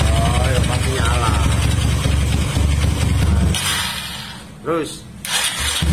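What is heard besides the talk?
Honda Tiger motorcycle engine starting and idling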